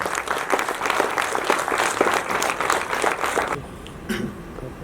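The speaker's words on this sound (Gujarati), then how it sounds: "એકવાર તાળીઓથી સ્વાગત કરીએ" An audience at a book talk claps steadily and loudly for several seconds to welcome a speaker, then the applause cuts off abruptly, leaving a quieter room with a few stray sounds.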